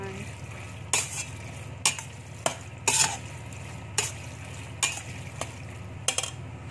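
Macaroni being mixed with ground meat in a pan, with a steady low sizzle underneath and sharp spoon scrapes and clinks against the pan at irregular intervals, with no talking.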